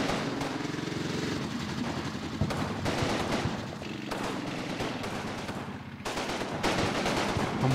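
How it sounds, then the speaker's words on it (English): Dense gunfire from the World War II strategy game Combat Mission at Vierville: sustained overlapping machine-gun bursts and rifle shots roll continuously, loud and layered, with brief lulls between volleys and no talk. "Yeah, that's just our fire going in still."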